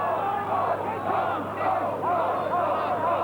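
A 25,000-strong rugby crowd at Ballymore chanting during the 1989 Wallabies versus British Lions second test, a massed rhythmic roar of voices carrying across the stadium in repeated surging waves.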